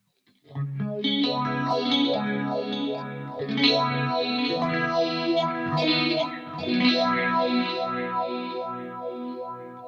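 An electric guitar plays chords and picked notes through an Axe-FX processor with a shimmering chorus-like effect on a clean sound, sustained and fairly loud with no talking.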